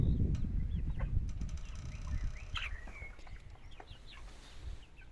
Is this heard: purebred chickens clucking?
yes